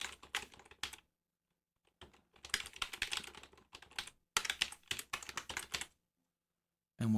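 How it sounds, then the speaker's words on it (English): Bursts of typing on a computer keyboard while an email reply is written, quick clustered keystrokes in several runs separated by short silences, close and fairly quiet with no talking. "And then I can type my reply."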